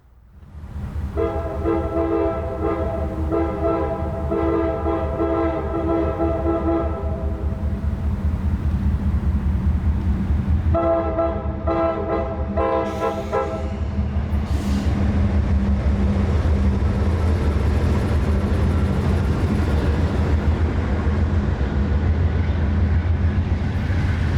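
Freight train L738 at Folkston, Georgia passes with a steady low engine rumble as the crew sounds two long horn blasts, followed by continuous rolling rail noise.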